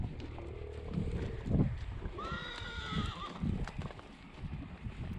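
Horses in a herd at a riding arena, with neighs and whinnies rising over a steady clip-clop of hooves, mid-distance and moderately loud, plus a few faint voices in the background.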